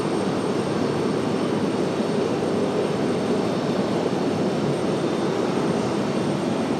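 A Sun Country airliner jet in Tide Pod livery at Raleigh-Durham gives a constant, dense engine roar, near and loud, unbroken throughout with no voices.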